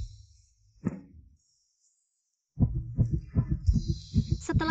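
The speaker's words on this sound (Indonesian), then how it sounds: "Setelah detak jantung begitu cepat" A quick thumping heartbeat effect in a dramatic scene: one isolated thump, a silent gap, then a rapid run of low, close pulses under a faint high tone.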